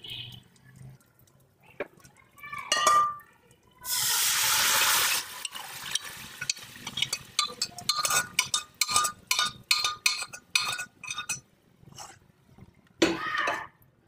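Cooked dal tipped into hot tempering gives a loud hissing sizzle of about a second, followed by a long run of irregular clattering and scraping taps as it is stirred.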